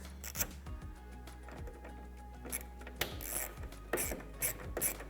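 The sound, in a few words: 8mm socket ratchet snugging Jeep Gladiator taillight bolts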